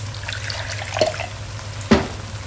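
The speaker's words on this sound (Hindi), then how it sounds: "अब इसमें पानी डालेंगे, 1/2 कप पानी का डाल के" Water is poured into a cooking pot holding spinach and eggs, a quiet liquid trickle with two short splashes against faint background hum.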